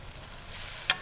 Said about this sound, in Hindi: ये देखिए अच्छे से भून रहा हूँ मैं कलेजी।